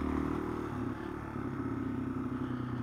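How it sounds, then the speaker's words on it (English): A Yamaha XT225 dual-sport motorcycle lugs uphill at low revs on a leaf-covered trail, its engine a steady low chugging rumble with some clatter, continuous and moderately near. "Just letting the bike lug up stuff."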